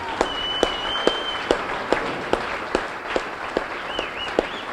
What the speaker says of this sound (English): how about a big round of applause for all of the competitors who laid it all